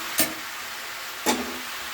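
Chicken legs frying with onion and garlic get stirred twice, each pass a brief scraping swish against the pan over a low steady sizzle.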